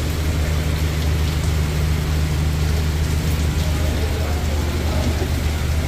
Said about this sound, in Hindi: मुसलसल बारिश हो रही है।